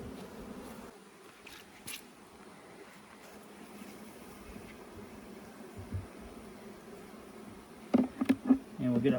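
Honey bees swarming over an open hive during a frame inspection, a steady mid-level buzzing hum throughout with a few louder close passes near the end, outdoors, no talking.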